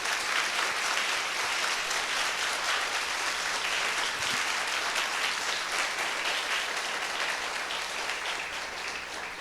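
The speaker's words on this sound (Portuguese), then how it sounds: "Mais um aplauso ao Senhor por isso," A church congregation claps at a family-themed service, giving a steady, dense round of applause that holds evenly throughout and fades slightly at the close.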